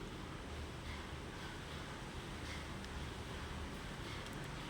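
Wind blows steadily at the seaside, a constant broad roar with no pauses, mixed with the wash of surf and some buffeting on the microphone.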